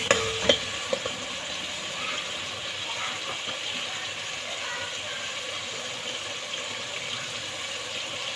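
Spices for a mutton or beef kebab curry fry in a pan with a soft, continuous sizzle. A few clinks of a utensil come near the start, then the moderate hiss carries on alone.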